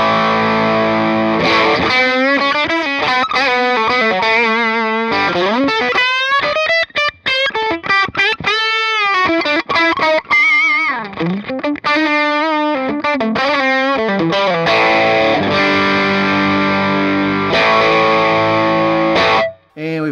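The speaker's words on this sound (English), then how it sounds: "Put a little overdrive on the bridge" Overdriven electric guitar on the bridge pickup through a Fender Blues Jr amp, playing a loud, continuous run of sustained chords and quick melodic note bends, with a brief dip near the end.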